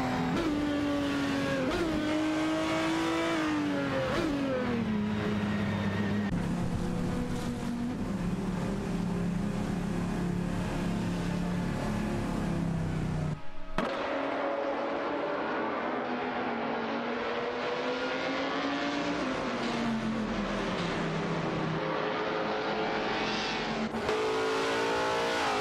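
Race cars including a Koenigsegg CCTT roar through a racing video game, a continuous loud engine drone that rises and falls in pitch with shifting revs, briefly cutting out midway before resuming, with no voices.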